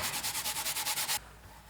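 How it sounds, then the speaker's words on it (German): A piano part is sanded by hand in a piano maker's workshop, with about ten quick, even rubbing strokes in a steady rhythm that stop abruptly, leaving quiet room tone. "Zum Beispiel schleifen"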